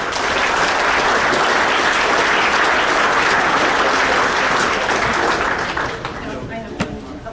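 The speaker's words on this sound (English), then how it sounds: "Let's give him a round of applause." Loud, dense audience applause fills a banquet hall during a track awards ceremony, sustained for several seconds before tapering off near the end.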